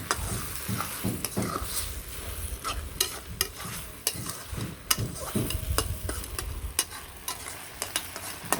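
Soft vegetables, egg and onion fry in a pan with a constant sizzle, punctuated by repeated sharp scrapes and clinks of a utensil stirring against the pan, close and moderately loud.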